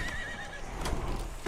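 A horse whinnies clearly and nearby in Assassin's Creed, followed by hoof clip-clops and busy game ambience, with no talk over it.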